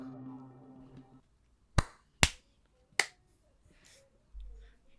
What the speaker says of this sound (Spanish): El peor aplauso del mundo